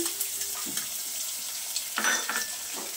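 Tomatoes going into a pan of softened sautéed onion, frying with a constant sizzle under a few sharp scraping stirs and clinks of a utensil against the pan, close and clear with no talking.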